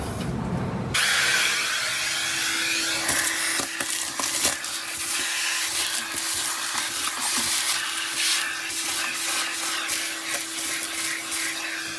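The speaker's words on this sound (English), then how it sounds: "I'll get the vacuum in there and suck all that stuff out of there real quick." A shop vacuum roars continuously up close, with gurgling, rattling suction as thick debris and fluid are pulled from around the master cylinder of an old barn-find VW Beetle.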